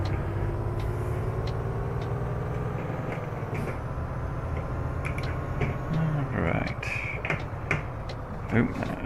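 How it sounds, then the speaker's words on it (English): Heavy truck in Euro Truck Simulator 2, its low engine drone steady before a hard brake near the end brings hissing air bursts and a rattle, with a voice talking over it. "Got a bit over keen with the brakes there."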